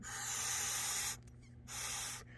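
Breath blown through a small 0 PSI cracking check valve with a spring-loaded ball for a Chevy Cruze PCV setup, two soft airy hissing puffs separated by a short pause, close and quiet.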